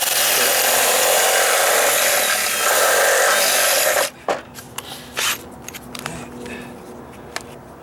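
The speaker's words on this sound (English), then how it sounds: "Now I'm just using the side of the cutter as a cutter on the drill." A power drill spins a cutter bit, its side grinding a channel into deck wood for dry rot repair, a dense continuous rasp that stops abruptly midway, leaving scattered knocks and light handling sounds.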